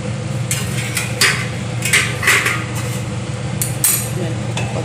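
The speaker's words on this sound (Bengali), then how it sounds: "এবার আমি ঢাকনাটা খুলে দেব।" A metal lid comes off a cooking pot with a few bright clinks and scrapes over a steady low kitchen hum and faint background voices.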